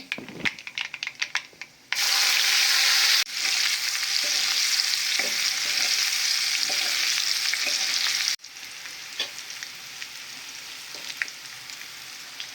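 Asafoetida and garlic hit hot oil for a tempering, bursting into a loud, close, steady sizzle after a few soft kitchen clicks, then dropping to a quieter crackle with scattered taps.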